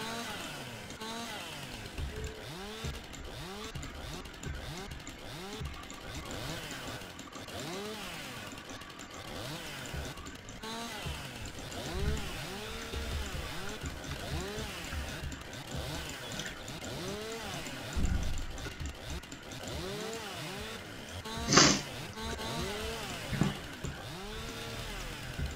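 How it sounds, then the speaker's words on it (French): A chainsaw in Farming Simulator 19 runs continuously for about 25 seconds, its rising and falling whine cycling steadily over background game sounds, with a brief sharper burst near the end. "C'est un peu buggy la tronçonneuse, je sais pas pourquoi."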